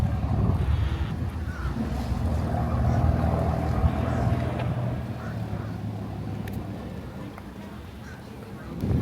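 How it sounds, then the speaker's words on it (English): A sponge boat's motor chugs low and steady amid wind noise as it comes in at the Tarpon Springs Sponge Exchange, Florida, with people talking nearby over the engine. "here comes in a sponge boat right now"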